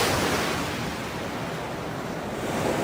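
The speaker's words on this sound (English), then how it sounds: "The wind's blowing me." Steady broadband wind rush at a beach, constant and loud throughout with no gaps, buffeting the microphone like surf noise, with no voices.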